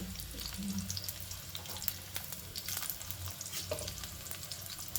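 Onion frying in a pan for a stuffed brinjal curry, a faint continuous sizzle with light scraping stir sounds, quiet and steady.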